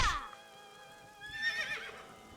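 A merry-go-round horse in the video game AI: The Somnium Files gives a short, bright whinny that rises and then trails off. The neigh is close and fairly quiet, with no talk over it.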